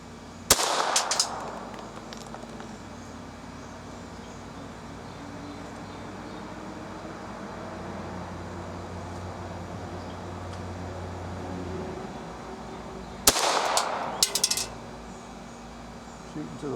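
.22 pistol shots fired with Federal Auto Match ammunition at an outdoor range, from a Ruger Mark IV or Smith & Wesson Model 41. Two sharp clusters of quick cracks come at the start and near the end, with a steady ambient hum between them.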